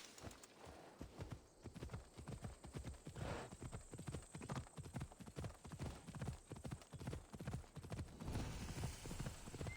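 Horse hooves clip-clop in a steady trot across ground in the Assassin's Creed Odyssey video game, a constant close rhythm that runs the whole time beside faint game ambience.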